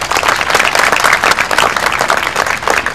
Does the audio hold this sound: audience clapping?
yes